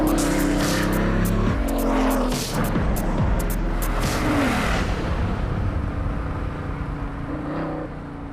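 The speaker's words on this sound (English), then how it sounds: "the Bugatti Vision Gran Turismo" The Bugatti Vision Gran Turismo car's engine roars and revs loudly and close, its pitch rising and falling through shifting gears before it eases into a lower, steadier drone.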